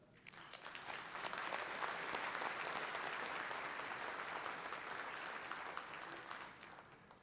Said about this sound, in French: Je vous invite encore à les applaudir chaleureusement